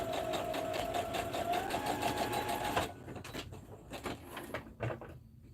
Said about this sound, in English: I'm going to make another line of straight stitches